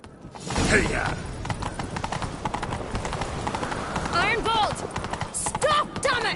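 Galloping horse hooves in The Witcher 3, a steady rapid clip-clop running throughout, close and prominent beneath shouted dialogue and neighing.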